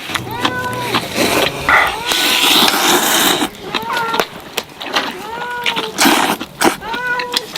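Cat meowing repeatedly in short, rising-falling calls, near and fairly loud, several separate meows spread over the stretch while people talk and eat in the background.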